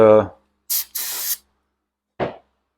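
Short hissing bursts of an aerosol can of brake cleaner spraying, two quick blasts close together after a brief voice, with silence around them.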